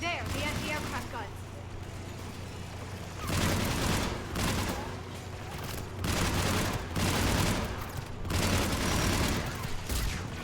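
Anti-aircraft guns in Mass Effect 3 fire in loud bursts of rapid shots, several volleys roughly every second or two, under a voice talking over the game.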